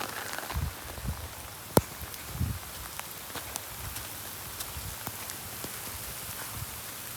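Outdoor rain patters steadily on surfaces, with scattered louder drops landing as sharp clicks and taps at a moderate distance, quiet overall.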